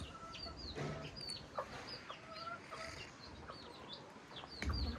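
Chickens cluck and call in a village courtyard during monsoon rain, several short bird calls scattered over a steady background of rain and ambient noise, with a louder burst near the end.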